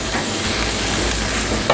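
Veal paupiette sizzling in a pan with butter added near the end of cooking, a dense, even frying hiss, close and continuous, with a faint scrape at the end and no talk.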